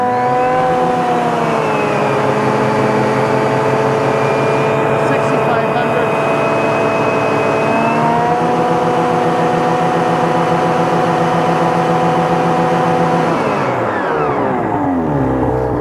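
A Ski-Doo turbo snowmobile fitted with a muffler revs and holds at about 6,500 then 7,500 RPM, a loud, close, steady engine drone that steps up in pitch, then falls away as the throttle drops.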